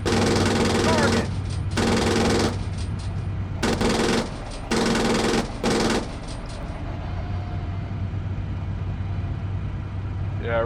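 Tank machine gun from a Leopard 2A4 in Steel Beasts Pro rattles out several long sustained bursts at close-range troops over a steady engine drone, separated by short pauses, then the engine hum continues alone.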